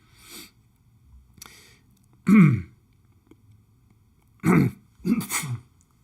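Several short bursts of coughing and sniffing, spaced apart with quiet between them, close to the microphone.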